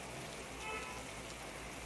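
Steady rain falls on a rainy day outside a plant shop, a faint, even hiss with no breaks.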